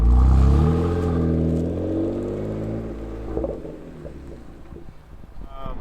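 A tuned BMW F80 M3 pulls away, its exhaust note rising and falling through gear changes before fading, followed by wind and road noise as the car moves off.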